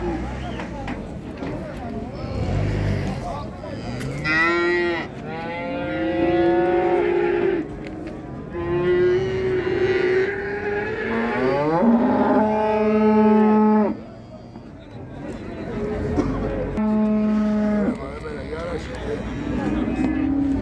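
Calves at a livestock market moo and bellow repeatedly, several long drawn-out calls overlapping, loud and close, while people talk and bargain in the background.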